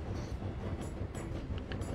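Train running in the video game Tiny Rails, a steady low rumble with soft rhythmic clatter and a few thin high squeaks, quiet and continuous with no voices.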